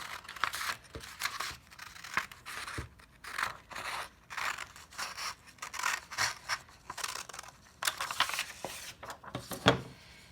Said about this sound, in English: we're going to cut right along the fold